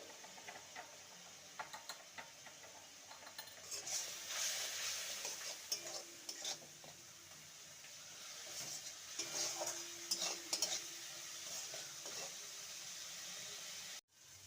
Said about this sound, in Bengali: এই মশলাটাকে ভালো মতো কষিয়ে নেব